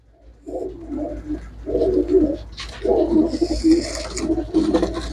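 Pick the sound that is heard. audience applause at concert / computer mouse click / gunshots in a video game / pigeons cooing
pigeons cooing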